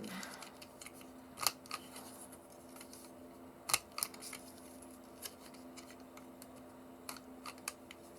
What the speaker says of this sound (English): if we go for this corner chomper with our 1/4 inch